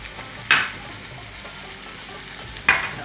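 Butter and garam masala are stirred in a pan for matar paneer, a quiet low simmer broken by two sharp scraping strokes of the spoon about two seconds apart.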